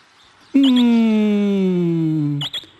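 In a Spanish cartoon story, a voice imitates a partridge's song with one loud, sustained, gliding sung note lasting about two seconds, clipped off abruptly at the end.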